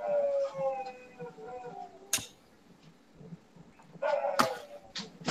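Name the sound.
dogs barking and howling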